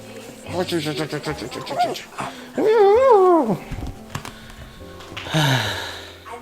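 A dog whimpers indoors at close range, giving a couple of high, wavering whines in a short burst, with quieter snuffling and shuffling around it.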